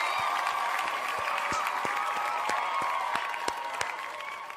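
Evenly spaced, sharp hand claps repeat in a steady rhythm over a continuous crowd din with a faint tonal hum, all at moderate, fairly constant loudness.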